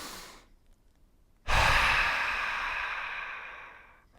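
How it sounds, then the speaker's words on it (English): A slow, deep exhaled breath during a yoga flow, a soft airy whoosh lasting a couple of seconds after a quiet pause, close and alone. "Take one last deep awareness breath."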